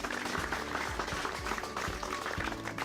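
Villagers clapping at an outdoor gathering in Supla village, a faint, distant patter of applause under background noise, steady for a few seconds.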